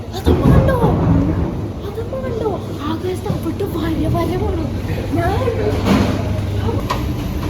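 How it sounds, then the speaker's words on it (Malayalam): Steady heavy rain hiss with low rumbling thunder underneath, while people talk close by throughout. "ഇത്രയും വലിയ മഴ ഇത് കാണാൻ പറ്റിയില്ലല്ലോ അയ്യോ ഇടി വിട്ട്"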